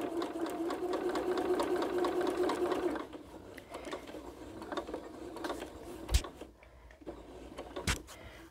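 A sewing machine runs steadily for about three seconds, stitching along a quilt seam on a Double Irish Chain quilt, then stops, leaving quieter handling noises and a couple of sharp clicks.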